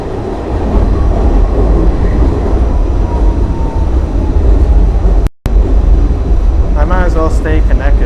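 A New York City subway G train rumbles loudly and continuously, with wheel and car noise close by and a brief dropout in the middle. A voice talks over it near the end.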